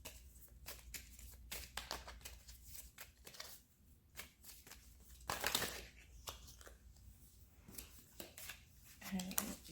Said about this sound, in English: I'm just pulling more cards